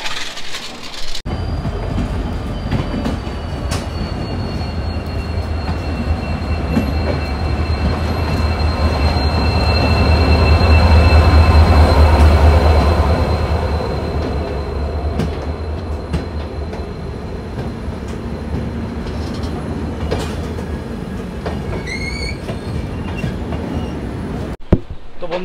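The Digha Tamralipta Express rolls along the rails in the rain with a loud, continuous rumble and rhythmic wheel clatter that swells in the middle, plus a thin wheel squeal and a faint horn-like tone near the end.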